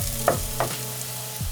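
Sliced onion sizzles steadily in hot olive oil in a saucepan, with a couple of soft stirring scrapes close by.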